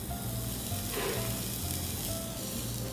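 Onion and roasted garlic sizzle in olive oil as a salmon dish begins, a steady close frying hiss with some stirring, heard alone without talk.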